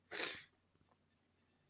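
One person gives a single sharp, fairly close sneeze that dies away quickly, followed by near silence and a brief faint sound at the very end.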